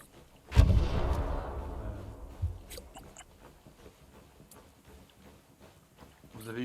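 Artillery fire and gunshots in a video game battle, starting with a loud, close blast that fades into scattered shots and booms, with players talking over voice chat.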